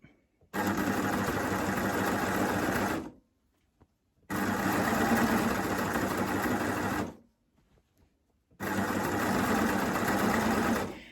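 A sewing machine fitted with a knit binder stitches binding around a T-shirt neck edge, running in three long, even bursts separated by brief pauses, close and steady with no talking.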